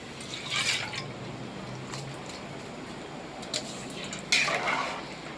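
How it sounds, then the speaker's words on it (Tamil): Rice stirred in a pot while making mushroom biryani, with scraping, clinking strokes near the start and again near the end, and quieter kitchen clatter and faint liquid sounds in between. "நல்லா கிளறி விட்டுக்கலாம்"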